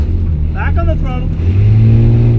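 A drift car's engine holds a loud, steady drone as the driver gets back on the throttle, the pitch climbing toward the end, with a voice speaking over it.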